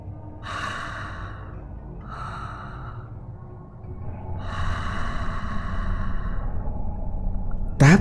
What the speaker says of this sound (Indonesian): Terkadang cuma suara nafas.